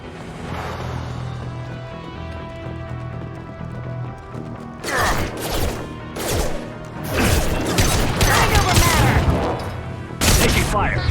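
Gunfire erupts in Mass Effect 2 after a quiet humming stretch, with loud, close bursts of rapid shots and impacts arriving in clusters through the second half.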